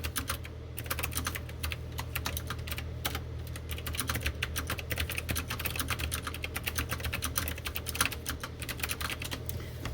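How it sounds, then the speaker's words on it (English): Fingers type on a computer keyboard in a rapid, uneven clatter of key presses that carries on for about ten seconds, close and clear with no voices. "I just needed to finish typing that."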